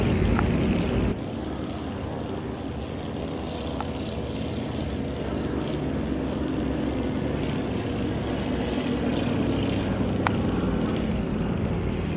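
Propeller airplane passing by in the flight simulator game Flight Simulator X, a steady broadband engine drone that holds at an even, loud level throughout, with no talk over it.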